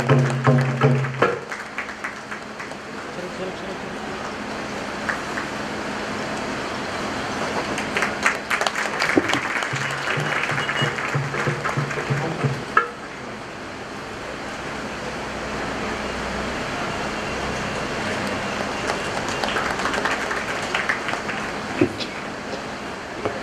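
A crowd at a Gujarati religious discourse gathering, honouring a revered sage, breaks into sustained applause, a dense wash of clapping that surges and eases over about twenty seconds.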